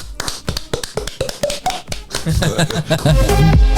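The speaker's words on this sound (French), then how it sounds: "On peut s'applaudir." A few podcast hosts clap for themselves around a table, sharp close claps and taps in a quick uneven burst, then breaking into laughter and overlapping voices.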